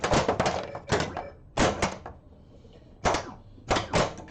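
Drop targets on a 1980s Bally Paragon pinball machine are struck in a series of sharp, hollow thunks and taps, about six clustered impacts with quiet gaps between them.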